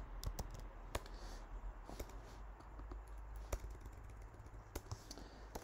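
Code being typed on a computer keyboard, a quiet run of irregular key clicks and taps close by, alone with no speech.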